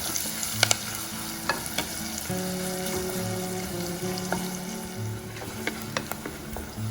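Onions sauté in a clay pot for an omelette curry, giving a soft continuous sizzle broken by stirring scrapes and clinks, with a faint steady hum underneath.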